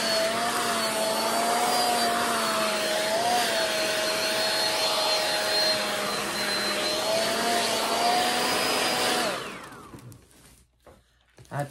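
A handheld blow dryer runs steadily at high speed with a loud, constant whine and airy rush for about nine seconds, then shuts off and falls quiet, leaving faint handling noises.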